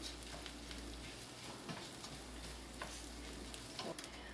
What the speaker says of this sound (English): now just move the rice to make it all full of oil.